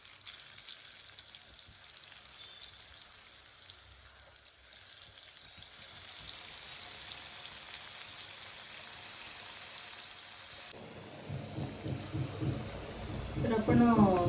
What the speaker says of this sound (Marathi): तर आता मी तुम्हाला तळून दाखवते.